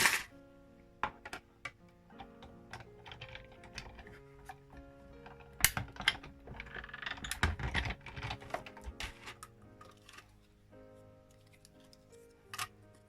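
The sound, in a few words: Stampin' paper trimmer cutting designer paper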